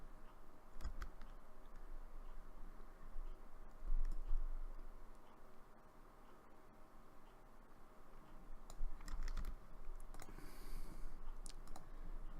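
Mouse and keyboard clicks from a Cities: Skylines session, sounding as scattered sharp ticks in small bursts over a steady low hum, soft and close with no talking.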